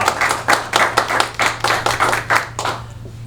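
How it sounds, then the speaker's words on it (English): Audience applause with about ten distinct bursts of clapping in a steady rhythm, fairly close and loud, with a low steady hum underneath and no talking. "I give her a big round of applause."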